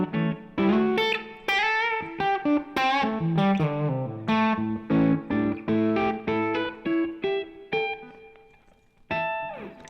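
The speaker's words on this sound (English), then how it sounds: "I like working with the volume knob because it can get the less and more distortion" A Les Paul electric guitar played through distortion, picking a run of sustained notes and chords with clear gaps between phrases, loud and close with no voices.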